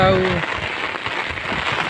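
Steady rain patters on a surface, a dense even hiss with faint drips, briefly overlapping a voice at the start.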